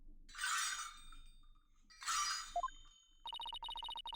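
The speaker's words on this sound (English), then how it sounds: "I hear the sound of the High Priest's footsteps" Jingling ankle bells mark the High Priest's footsteps in the Ace Attorney: Spirit of Justice video game, two bright shimmering jingles followed by a rapid run of clear ringing chimes, close and clean with no voices.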